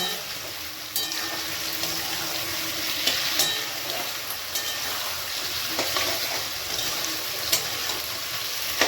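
Salted potatoes frying in a pan: a continuous close hiss and sizzle punctuated by intermittent scraping stirs and small clinks over about nine seconds, with no voices.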